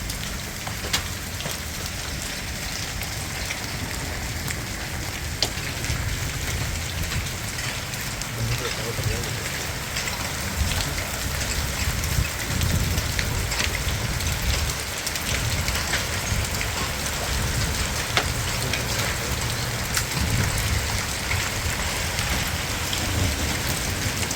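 Steady heavy rain drums on a metal roof with a constant hiss and patter, close by, while a voice talks faintly underneath.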